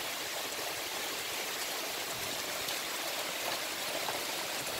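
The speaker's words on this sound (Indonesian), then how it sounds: "Alhamdulillah ini hujan." Steady rain pours over an avocado orchard in Lampung, a dense, even hiss of drops on leaves and ground that holds constant and close throughout, with no voices.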